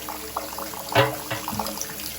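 Water leaking from a tub faucet, a close, continuous trickle and splash with one brief louder gush.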